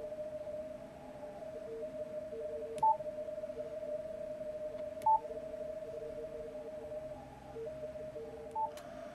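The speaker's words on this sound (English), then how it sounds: "At 600, you hear that low tone coming in?" A steady low CW radio tone heard through a 600 Hz filter on an amateur radio receiver during contest conditions, holding constant under faint background signals, with three brief sharp clicks or beeps spaced across it.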